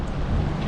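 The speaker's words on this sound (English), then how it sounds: "The wind's blowing, which is really nice." Wind blowing over a boat near a dock by an inlet with large ships nearby, a dense low rumble of gusts buffeting the microphone, steady and close, no talk.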